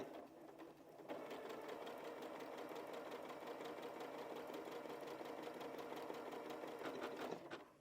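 A domestic sewing machine stitches a one-step buttonhole on a quilt block cushion, a steady rapid mechanical whirr running loud and unbroken for several seconds after a quiet start.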